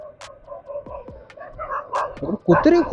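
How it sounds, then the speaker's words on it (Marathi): Street dogs bark at night close to a passing motorbike, several sharp barks and yips scattered over a few seconds and growing louder and denser toward the end. "कुत्रे खूप आहेत यार, रात्रीच्या ना लिटरली अशी गाडीच्या मागे लागतात भुंकून भुंकून."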